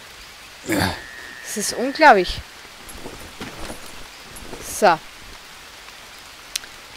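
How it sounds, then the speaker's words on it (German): Steady hiss of rain falling in the jungle survival video game Green Hell runs throughout as a soft, constant wash, with someone speaking German over it in short phrases. "Natürlich regnet es"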